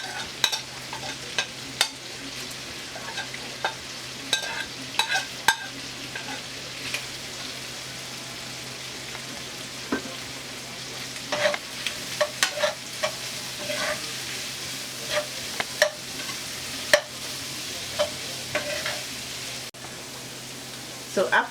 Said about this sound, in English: after a minute of frying my carrot, my scallions, and my pepper